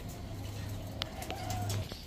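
Pigeons at a Bangladeshi pigeon market, including racer and military breeds, give soft low cooing in two steady stretches beneath a constant background hum, with a faint chirp or two in between.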